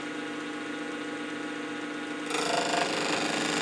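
A wood lathe spins a door stopper blank with a steady mid-pitched motor hum, and a gouge then bites in partway through, adding a louder, rougher scraping whir of cutting.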